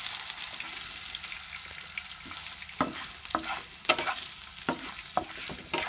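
Garlic, ginger and green chilli sauté in a pan for mushroom gravy, a steady sizzle broken by a series of sharp spoon scrapes and taps from stirring.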